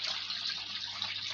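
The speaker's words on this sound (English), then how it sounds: "I'm busy adding my water now" Water poured from buckets into a washing machine drum, a steady broadband rush of splashing liquid throughout, close and continuous with no speech.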